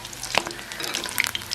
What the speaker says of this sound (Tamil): இதை ஓரளவு மெல்லிய நெருப்பில் வச்சு பொரிச்சு எடுப்போம்